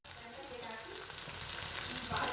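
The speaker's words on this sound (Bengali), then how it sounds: "এই যে আমি এখানে চিলি চিকেনের মাংসগুলো বসিয়ে দিয়েছি ভাজা করতে বসিয়ে দিয়েছি" Chilli chicken pieces fry in a pan with a steady, close sizzle and crackle that holds throughout and grows slightly stronger toward the end.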